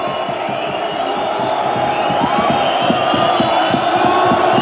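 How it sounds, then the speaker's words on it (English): Rugby league crowd at Leeds jeering and whistling at the goal kicker during a touchline conversion attempt, a dense continuous roar of voices building slightly in loudness with rhythmic chanting pulses. "The Leeds crowd doing their best to put him off"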